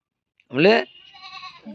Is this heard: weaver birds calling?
no